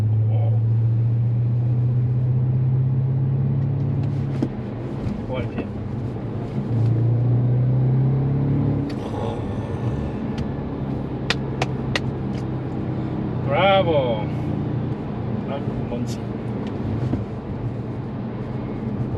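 A car engine running at low RPM, with a deep steady rumble that swells in two bursts early on, under voices talking and scattered clicks and knocks.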